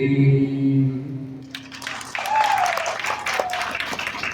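A sustained sung note at a devotional bhajan gathering gives way to an audience breaking into applause. Clapping swells and continues for several seconds as the music fades.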